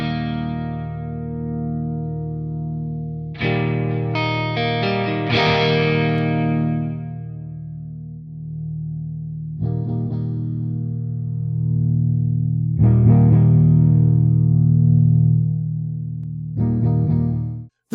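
Electric guitar played through a Marshall Vintage Modern amp with the body control turned up, thick low end; loud sustained chords and ringing notes in several bursts with pauses between, no talking.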